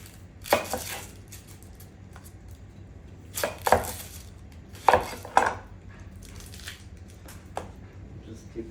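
A knife slices through a red onion on a board, a handful of crisp, separate cuts spaced a second or more apart, close and clear over a quiet background.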